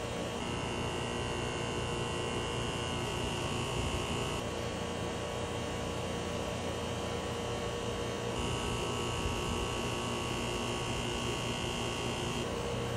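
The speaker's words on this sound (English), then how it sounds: "Let's see how much quieter this is compared to before we installed the soft start kit." An air conditioner compressor fitted with a soft start kit runs with a steady, even hum and buzz, unchanging and alone throughout.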